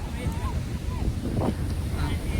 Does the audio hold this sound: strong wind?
yes